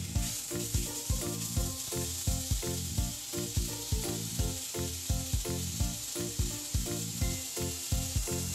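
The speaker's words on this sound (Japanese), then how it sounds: "いい香りが立ってきたらスライスした砂ずりから炒めていきます。" Sliced chicken gizzards stir-fry in sesame oil with garlic in a frying pan, a constant loud sizzle broken by regular rhythmic scrapes and clacks of stirring.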